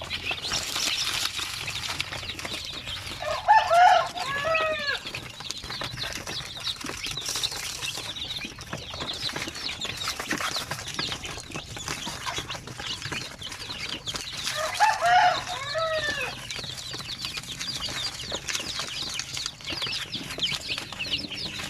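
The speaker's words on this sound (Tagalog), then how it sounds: "Kumakaskas na yung ibang mga sisiw dito." Chicks of Basilan, Zampen and Shamo Aseel breeds peep and cheep steadily in a brooder, with two louder bursts of calling near the start and again midway over a constant chirping background.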